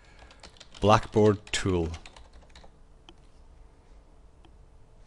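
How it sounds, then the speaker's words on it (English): Light clicks of typing on a computer keyboard come after a short spoken phrase, then continue as scattered, quiet taps in a quiet room. "If you go to Google and type in bFree"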